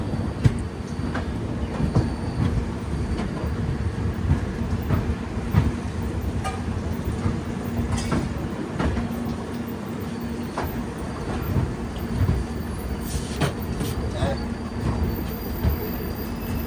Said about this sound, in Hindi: अपनी ट्रेन एकदम राइट टाइम से चल रही है